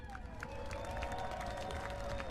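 A speedway grandstand crowd at LaSalle Speedway cheers after the national anthem before a MARS Racing Series race, a faint, steady roar of distant voices and scattered clapping across the open track.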